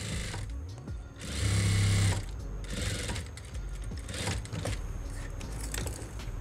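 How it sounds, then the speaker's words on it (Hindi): Sewing machine stitching a cutwork piece onto a trouser, several short close whirring bursts of about a second each, separated by brief pauses and light mechanical clicks. "ये हमने इस तरीके से हम इसके ऊपर सिलाई लगा कर इसको बंद कर देंगे।"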